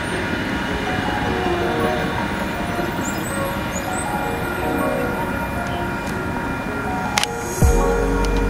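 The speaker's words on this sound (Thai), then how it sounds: "นี่รถไฟ" A train rolls past with a steady broadband rumble and rattle throughout, then a sudden louder clank near the end.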